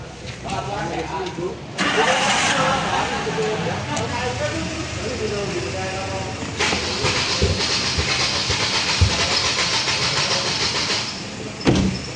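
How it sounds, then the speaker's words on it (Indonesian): A car engine cranks and catches on a service lift in a workshop, then settles into a steady idle with a hissing undertone; a brief clunk comes near the end. "Kita nyalakan mesin."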